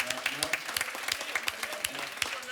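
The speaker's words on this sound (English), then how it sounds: "So please give yourselves a round of applause" A live podcast show audience applauds itself, with dense, bright clapping filling the room, punctuated by sharper individual claps and some voices heard over it.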